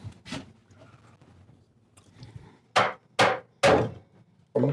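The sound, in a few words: small hammer tapping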